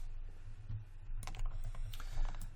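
Computer keyboard keys pressed during 3D modeling work in Maya 2017, a quick irregular run of near, crisp clicks over a low steady hum.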